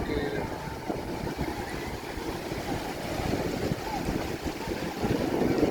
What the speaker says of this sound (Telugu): ఇది మచిలీపట్నంలో మంగినపిడి బీచ్ రా. అమ్మ ఇంకోటి వస్తుంది, అలా ఇంకోటి వస్తుంది